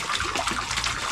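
Water gushing from a hand pump into a basin, a brief, full, splashing rush of liquid heard close and alone.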